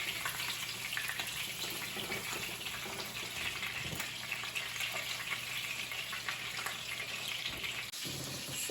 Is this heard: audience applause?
no